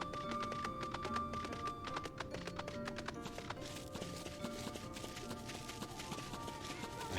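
Horse mount hooves from Final Fantasy XIV clip-clop in a quick, steady rhythm as the mount travels, mixed low beneath game music and ambience without any talk.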